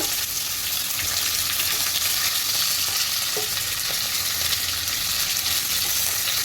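Rohu fish pieces, including belly cuts, fry in oil in a pan with a steady, dense hiss and crackle throughout, loud and continuous with no talk.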